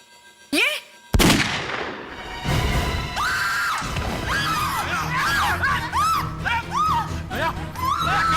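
Gunfire aimed at a CID officer in a Hindi crime drama: two sharp, loud bangs close together near the start, followed by a busy, noisy scene with voices and warbling tones.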